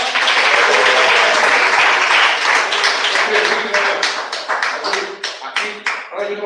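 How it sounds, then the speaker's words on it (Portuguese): A church congregation claps, a full roar of applause at first that breaks into sharper, spaced individual claps as it fades, loud and close. "Palmas."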